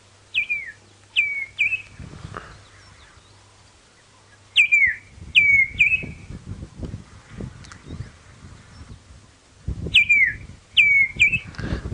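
Recorded bird calls played back during a safari drive bird call challenge: clear repeated sharp descending whistled notes in groups of three or four, separated by pauses, over a low rumble and handling noise.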